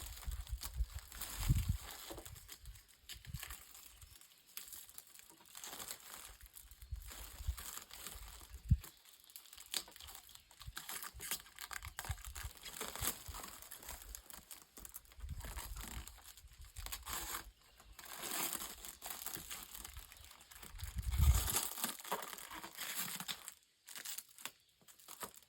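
Protective plastic film being pried and peeled off a new Husqvarna LB 144i battery lawnmower, heard as close, irregular crinkling and tearing rustles throughout.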